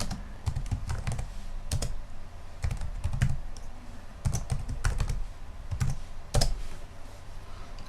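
Steady typing on a computer keyboard with irregular bursts of clacking keys and a few heavier presses, close up, with no one speaking.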